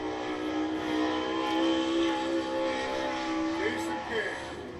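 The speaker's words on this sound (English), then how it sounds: "hitting the racing surface here for qualifying" A dirt track race car roars through qualifying at Muskingum County Speedway in Dresden, Ohio, its steady engine drone rising and falling with revs over a few seconds while an announcer talks over it.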